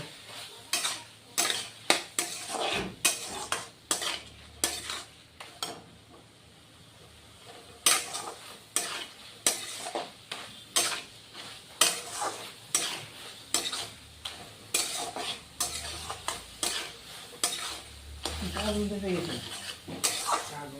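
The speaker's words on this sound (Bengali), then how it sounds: "এবার আবার কষিয়ে নিব আরো অল্প কষিয়ে নিব" Katla fish head sautés with Kashmiri red chili powder in a pan under a soft sizzle, while a utensil scrapes and clinks against the pan in repeated stirring strokes. A voice speaks at times.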